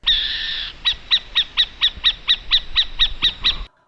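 A small owl calls with one sustained high note, then a rapid series of about a dozen sharp, evenly spaced calls that stop abruptly. The calls are close and clear over a quiet background.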